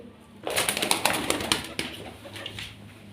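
Frightened pigeons in a loft on a farm where young birds are dying, with a burst of flapping wings and soft cooing and shuffling nearby, rising suddenly and then settling into scattered fluttery movement.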